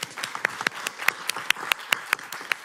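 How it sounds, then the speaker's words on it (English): A small audience at a city council meeting claps, close, sharp individual hand claps in a quick irregular patter lasting a few seconds, no talking over it. "I think we should clap for them."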